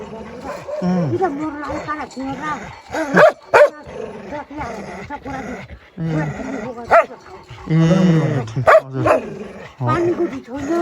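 A nearby dog barks and yips repeatedly in short bursts, mixed with people talking.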